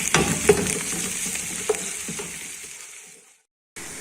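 Garlic ginger paste with onions frying in a pot for beef pulao, a steady close sizzle with occasional stirring scrapes that fades out and stops before a brief return at the end.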